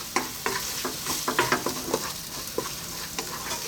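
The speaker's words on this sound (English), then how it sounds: "And once again, just with the heat of the pan, give that a mix." Cheese is stirred into spiced ribeye steak in a hot pan, with rapid scraping stir strokes over a constant close, loud sizzle and no talking.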